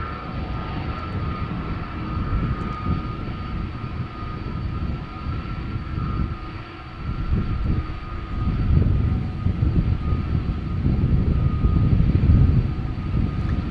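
A heavy Delta widebody departing Amsterdam Schiphol rumbles with a steady engine drone and a thin high whine, and the low roar grows louder and thicker in the second half with no voices.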